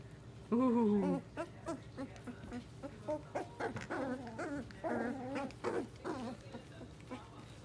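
Young puppies make high whimpers, yips and small growls while playing, in short bursts with pauses over several seconds, fairly close and moderately quiet.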